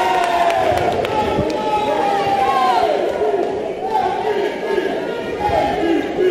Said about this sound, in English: The Italians are going a bit crazy. They're loving it up here in the crowd.